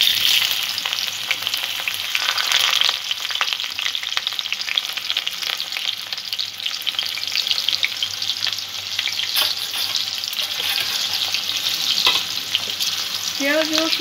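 Chopped onion, garlic and green chilies frying in hot oil for street-style egg chowmein, giving a dense, continuous close sizzle that holds steady throughout with only faint scattered clicks and no voices.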